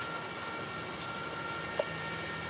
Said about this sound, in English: Yeah, it's pouring. It's raining,